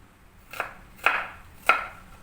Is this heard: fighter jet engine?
no